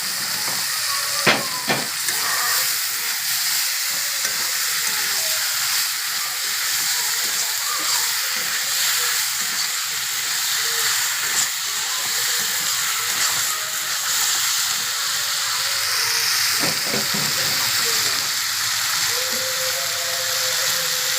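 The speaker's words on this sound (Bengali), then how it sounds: "দিয়ে একটু ভালো করে নাড়াচাড়া করে আমি একটু কষিয়ে নেব" Ingredients for a hilsa and poppy-seed dish sautéing in a pan, with a steady frying hiss and occasional clinks of the stirring spoon.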